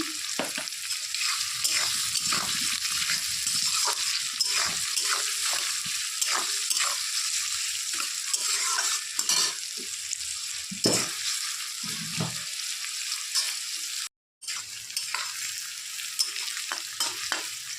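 Chopped onions fry with a pinch of salt in a pan, a continuous close sizzle broken by frequent scraping stirs and one brief dropout near the end, with no voices.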